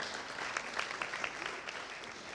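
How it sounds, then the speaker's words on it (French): Audience applause at a live televised evening show, a moderate, even patter of many hands clapping that holds steady for a couple of seconds with a few louder claps rising above it. "je vous demande d'applaudir cela très très très fort"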